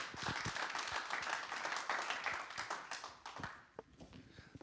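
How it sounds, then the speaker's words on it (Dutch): Audience at the Starter van het jaar 2020 event applauding a local alderman, a fairly faint, steady patter of clapping that thins out toward the end with a few scattered claps. "Geef hem een groot applaus, hier is Jan Lonen, dames en heren"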